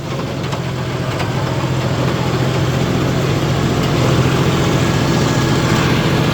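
A farm tractor running with a soil-gathering implement attached: a loud, steady, close engine drone holding constant throughout, with no talk.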